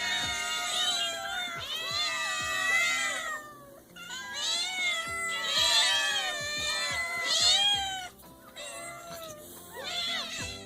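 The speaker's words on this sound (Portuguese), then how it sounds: "é só você dar uma olhada nessa cena de caos completo de gatinhos e você vai descobrir" A large crowd of hungry farm cats meows continuously and overlapping, loud, high and insistent wails rising and falling in waves with only brief lulls.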